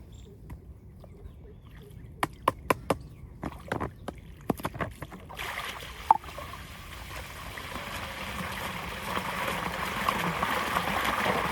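Irrigation water running along a sloped field channel toward a small farm plot, first a series of sharp knocks and clicks, then a steady rushing flow that grows louder and fills the rest.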